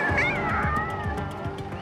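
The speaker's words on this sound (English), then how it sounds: "there was a little kitten under the bonnet of my car" A distressed little kitten trapped under a car bonnet meows repeatedly in a steady series of high, urgent cries, close and fairly loud.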